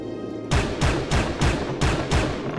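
Anti-aircraft guns firing in Soldier of Fortune, the video game, as a heavy, rhythmic series of about six booming thuds spaced evenly, loud and close.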